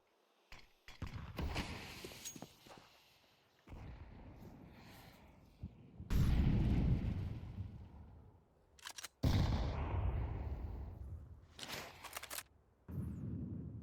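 Counter-Strike match on Dust2 with an HE grenade explosion and gunfire: loud, booming broadband blasts in several long bursts, broken by sharp clicks and brief quieter gaps.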